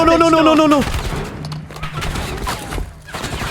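Gunfire and sniper shots crackle through a Warzone firefight, with bursts and distant reports layered under game noise; early on a whiny voiced tone sweeps across before the shooting continues.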